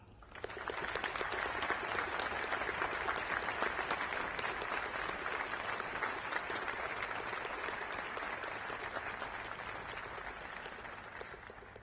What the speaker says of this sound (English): please join me in recognizing our veterans' national leadership with your applause